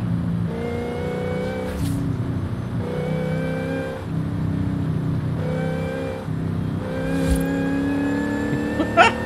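A supercharged Dodge Coronet Super Bee engine in Forza Horizon 5 roars steadily, rising through revs in repeated pulls with a whining edge, loud and close, no talk.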